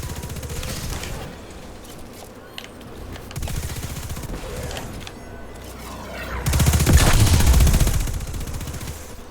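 The Recluse, a Void submachine gun in Destiny 2, fires in rapid automatic bursts, close and loud, with quieter stretches between bursts and a heavier, busier burst near the end.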